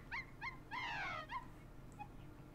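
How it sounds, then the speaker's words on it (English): Cartoon puppy dog alarm clocks yip and whimper in a quick run of high, rising yelps, a longer wavering whine in the middle, then a faint trailing yip, fairly quiet and alone. "Ah, puppy dog alarm clocks."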